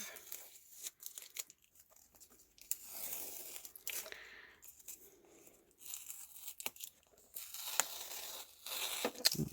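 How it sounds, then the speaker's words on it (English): Masking tape peeled slowly off a paper page from a watercolor painting, a series of close, quiet ripping and crinkling tears in uneven bursts, growing louder toward the end. "what I really ought to do, is take this masking tape off"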